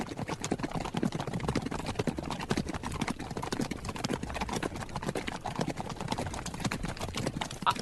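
Horse hooves galloping, a rapid steady clip-clop of many hoofbeats throughout, moderately close and fairly quiet, with no talking over it.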